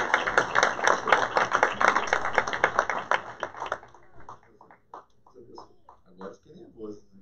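A church congregation claps in rhythm for a pastor, with dense rapid clapping and voices over it. Then the clapping stops and a single voice talks alone.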